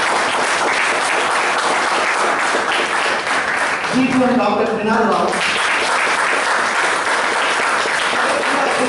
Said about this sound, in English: Give a round of applause to all the founders